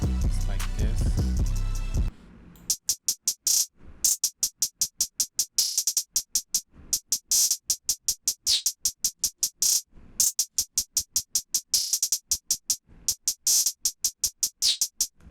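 Rapid, evenly spaced hi-hat ticks in a rage-style trap beat run steadily for many bars after a brief denser opening passage, with crisp, bright hits in a tight, repeating pattern.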